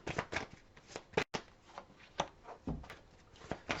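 Playing cards being shuffled and handled at close range, a rapid run of soft riffling flutters and light flicks with a brief quiet gap partway through, fairly faint.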